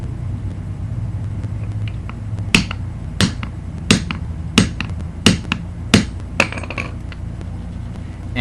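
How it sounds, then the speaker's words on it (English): Mallet strikes packing black powder into a homemade firework fountain: about eight sharp, evenly spaced knocks, close and distinct over a low background hum, with no talk. "You should really use a rubber mallet for doing this"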